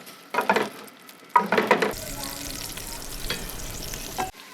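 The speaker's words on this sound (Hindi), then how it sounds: "प्याज को हमने खूबसूरत सा ब्राउन कर लेना है।" Two onions browning in several tablespoons of oil for beef pulao: two bursts of clattering stirs, then a loud, steady close sizzle that stops abruptly.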